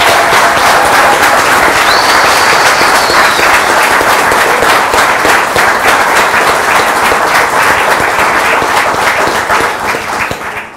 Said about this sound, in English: let's see if you can clap just slightly louder than you did earlier